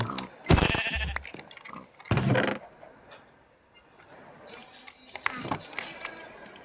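Sheep in a block-building video game bleat in several sharp, loud cries, with someone talking over and between them.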